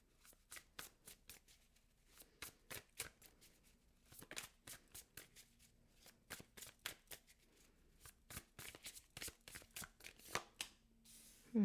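Tarot cards are shuffled by hand for a reading, making repeated crisp riffling bursts in an irregular rhythm, close and fairly quiet, with no speech over them.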